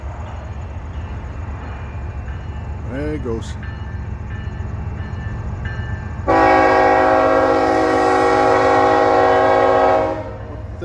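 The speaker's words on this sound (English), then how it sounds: "And say hello to Mr. Train." A train rumbles past steadily in the background, then its horn sounds as a loud, sustained blast lasting several seconds before stopping, with a brief voice speaking early on.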